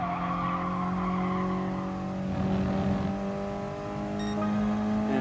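A 1996 Mitsubishi Lancer Evolution 4 racing in GT Sport, engine holding a loud sustained drone that shifts in pitch as it revs, with tires squealing through corners throughout.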